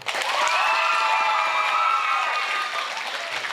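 A high school audience claps and cheers in a dense, loud burst of applause with high-pitched squeals, sustained for a few seconds before tapering slightly.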